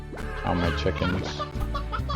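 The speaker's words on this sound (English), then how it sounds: "Oh, my chickens." Chickens cluck in the video game Slime Rancher, a dense run of short bird calls heard close and fairly loud over a steady game backdrop, with no talk.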